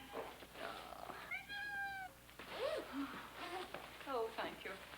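A domestic cat gives a clear, drawn-out meow, followed by a few shorter mewing sounds, heard close and moderately loud while people talk quietly around it indoors.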